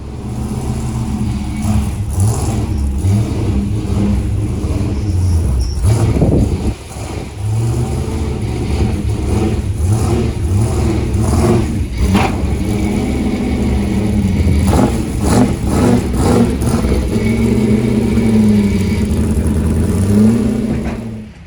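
An Isuzu D-Max V8 ute cruises along the road near Adelaide, its engine droning close and loud with rising and falling pitch as it shifts and accelerates, alongside steady road noise.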